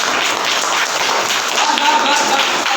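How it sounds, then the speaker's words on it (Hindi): A classroom of students claps together in dense, continuous applause, loud and steady for the whole stretch. "किसी के साथ इसके लिए एक ताली हो जाए"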